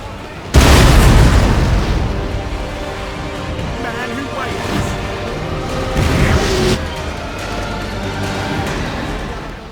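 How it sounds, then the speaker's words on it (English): French cannons firing at the Battle of Waterloo in the Total War video game, a sudden loud boom followed by rumbling blasts and a second heavy volley, fading into a low roar of battle. "The French cannons were only 300 yards away from the British center and blasted the Allied troops"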